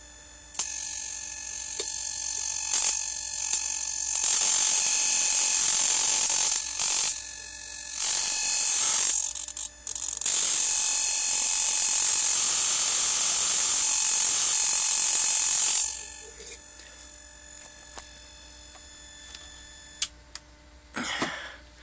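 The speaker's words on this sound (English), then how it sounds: "Can you see the arcs on the end of the screwdriver?" High voltage transformer arcing onto the tip of a screwdriver, a loud continuous buzzing crackle that holds for long stretches, breaks off briefly several times, then stops, leaving a quiet hum.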